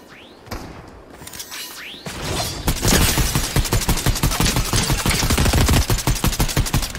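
Rapid automatic gunfire in a video game: a few sparse shots at first, then a dense, continuous stream of loud bursts that rattle on for several seconds.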